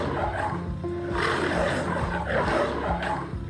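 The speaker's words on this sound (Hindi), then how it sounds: "तभी उसे शेर की आवाज सुनाई दी।" A lion roars in a kids' cartoon story, a deep rumbling roar that swells in two long waves over a steady background bed, fairly loud and without talking.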